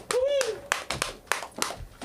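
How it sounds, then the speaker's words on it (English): An audience claps in bursts at a comedy show, with several sharp rounds of applause and a brief whoop near the start. "Keep your hands clapping for Cece Trez"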